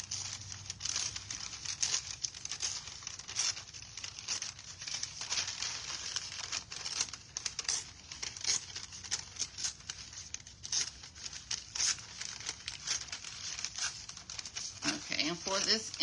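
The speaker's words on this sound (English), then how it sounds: "I'm just gonna have to rip it because I don't know where my scissors are." A paper inlay for a thrifted box torn apart by hand with no scissors, with a continuous run of close, rough crinkling and ripping that carries on for a long stretch, gets denser near the end, and has a voice talking faintly underneath.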